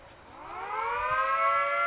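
A Federal Signal Mini 2T22 civil defense siren winds up during a noon test, its tones rising in pitch and growing louder over a faint low background.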